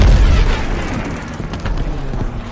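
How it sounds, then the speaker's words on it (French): Anti-aircraft artillery explosions in the Call of Duty Vanguard campaign, a dense, continuous rumble of booms and bursts over a fleet. The strongest blast comes at the start, with more crackling detonations rolling through the rest. "Attention à l'artillerie anti-aérienne, les gars, on approche de la flotte."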